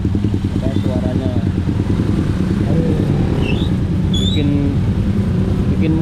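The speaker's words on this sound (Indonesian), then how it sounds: "Ini motornya ya. Knalpotnya apa itu? Custom biasa gitu knalpotnya." A motorcycle with a loud custom aftermarket exhaust rumbles steadily and close by in dense, slow-moving morning traffic in Bali, a continuous throbbing engine drone that holds for several seconds.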